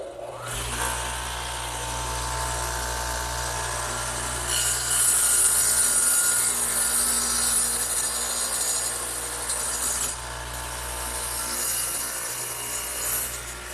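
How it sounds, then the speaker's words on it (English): A radial arm saw fitted with a dado head cuts into a wooden trestle table part, a loud continuous whining grind with steady motor hum that swells slightly midway and runs without speech. "I'm going to do that to this piece right here, over on the radial arm saw, which again has the dado head in it."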